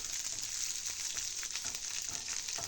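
Chopped shallots sautéing in coconut oil for a Kerala cheera thoran make a steady, close, continuous sizzle with faint stirring scrapes, no voices.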